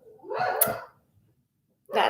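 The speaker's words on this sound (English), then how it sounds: "My dog's barking." A single dog barks indoors in a muffled burst heard through a thin wall, followed by a brief silence and the start of another bark.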